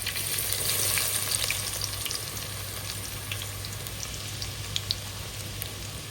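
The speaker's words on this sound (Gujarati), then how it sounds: "આપણું તેલ ગરમ થઈ ગયું છે તો એમાં નાખી દઈએ પહેલા તો આપણે ડુંગળી." Onions fry in hot oil at the start of a desi prawn curry, giving a steady close sizzle and crackle with a few small pops, heard alone without talk.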